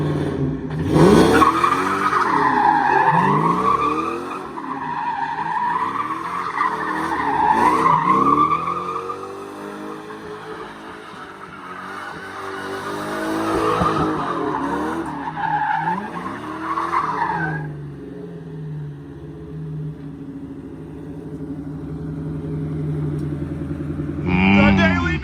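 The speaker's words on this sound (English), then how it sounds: "Now introducing Josh's drift car with Justin driving." Josh's drift car, a freshly fitted handbrake setup with Justin at the wheel, skids and squeals its tires in long wavering screeches over a loud engine, easing to a lower rumble near the end.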